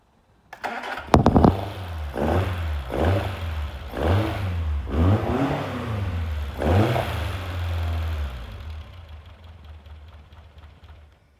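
A 2000 Westfield with a Ford Crossflow engine on twin 40 Webers cranks briefly, fires up and is blipped through several rhythmic revs, each rise and fall close and loud before settling and fading toward the end.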